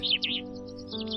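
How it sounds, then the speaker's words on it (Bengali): Small forest birds chirp and trill along a green hillside trail to Napittachara waterfall, with several quick high calls close by in a quiet setting. "মাঝে মাঝে পাখির ডাক"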